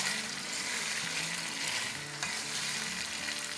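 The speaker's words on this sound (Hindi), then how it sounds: "अब ये बेसिकली तेल में क्रिस्पी होगा" Meat for gosht ka achar frying in oil over a high flame, a steady close sizzle that runs the whole time, with a short stirring scrape near the middle and no voices.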